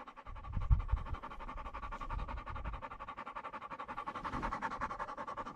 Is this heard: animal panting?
yes